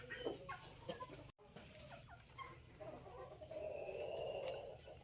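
Backyard chickens feeding on rice bran in a rural Philippine yard cluck softly and intermittently, several birds at close range with a steady background hum and no talk.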